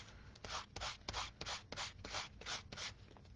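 Hand sanding with a sanding block on a craft piece, a rhythmic series of about nine close, raspy back-and-forth strokes with brief pauses between them, heard alone.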